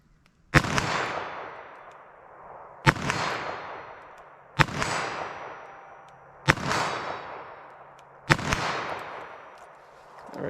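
Five sharp .22 WMR revolver shots with Critical Defense ammunition crack out at an outdoor range, evenly spaced about two seconds apart, each followed by a rolling echo that trails away.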